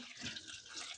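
Water is poured briefly into a mixer jar of coconut chutney with garlic, coriander and cumin before grinding, a short close splashing trickle heard alone.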